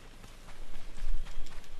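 In Ghost of Tsushima, horse hooves clip-clop in a quick, rhythmic gallop, moderately loud and building over a couple of seconds, close by.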